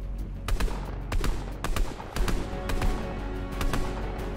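Gunfire in the battle royale game Fortnite, a string of sharp cracking shots at irregular intervals over a steady background hum, loud and close, with no talking.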